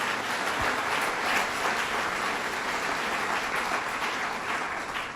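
An audience at a Western New York business-expansion press event breaks into steady, even applause that sounds close and sustained throughout.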